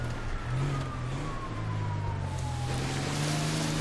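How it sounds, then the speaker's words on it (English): Police sirens in GTA 5 roleplay wail with a slowly falling tone over a low engine rumble from a driven 1978 Ford Bronco, steady and moderately distant beneath the vehicle noise. "I hear sirens. That's never good."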